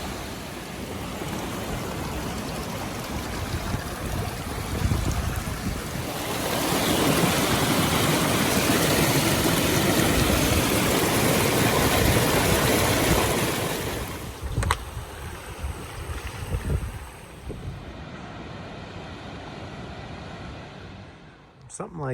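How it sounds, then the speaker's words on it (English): A stream of water flowing across a hiking trail in the Sierra backcountry makes a steady, loud broadband rush that swells in the middle and thins toward the end, with a few brief knocks. "Plenty of water coming across the trail"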